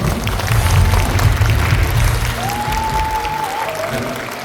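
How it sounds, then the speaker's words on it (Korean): A large audience at a book talk concert in a convention center exhibition hall applauds loudly and continuously, a dense wash of clapping with low crowd murmur and a brief whistle-like tone midway. "다시 한번 큰 박수 부탁드립니다"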